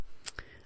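Scissors snipping a paper letter F in scrapbooking, two quick crisp cuts in close succession, near and clear with no talk.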